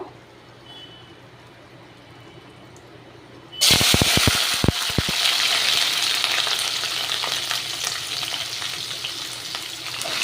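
After near silence, shukto vegetables drop into hot oil with panch phoron and chili, bursting into a loud, sudden sizzle with a few sharp crackles that settles into steady frying.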